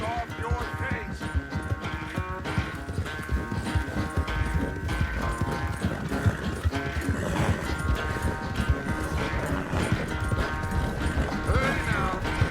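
Horse hooves pound steadily in Red Dead Redemption 2, a continuous rhythmic clip-clop of galloping at close range running throughout, with voices talking over it.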